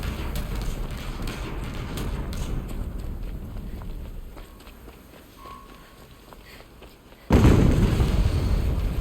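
An explosion goes off in Horizon Zero Dawn Remastered, a loud broadband boom that starts abruptly near the end and holds full, following a stretch of rumbling game ambience and soft footstep-like thuds.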